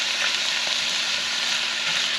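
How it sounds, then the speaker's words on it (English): Pasta sauce and diced tomatoes landing in a hot pan for baked ziti, giving a continuous bright sizzle and frying hiss with faint stirring, close and even throughout. "We're going to put our pasta sauce in there with the diced tomatoes."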